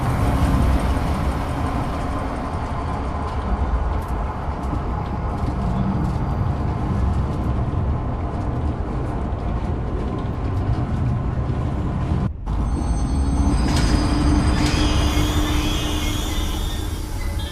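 A ride train in the game Zoochosis getting underway and rolling along, a loud steady mechanical rumble and rattle throughout, with a brief cut and a higher whine and clatter joining near the end; no talk.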